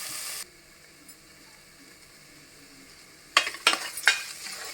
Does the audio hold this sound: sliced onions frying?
yes